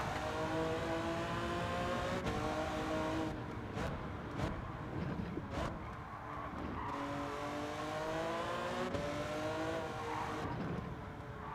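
Porsche 917K race car in a video game lapping the Nordschleife, its engine droning loudly and steadily throughout with gear changes and brief clicks and thumps from bumps, no talking.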